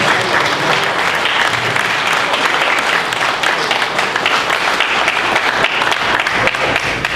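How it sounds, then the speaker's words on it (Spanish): Sustained applause from an audience at a talk opening a discussion event, dense steady clapping throughout with no voices over it. "Queremos darle pues un aplauso."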